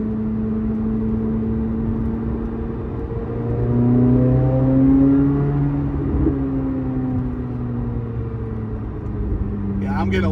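A C8 Corvette Z06 engine with ported 91mm throttle bodies idles and burbles at low revs, rising briefly in a throaty swell before settling back to a steady rumble.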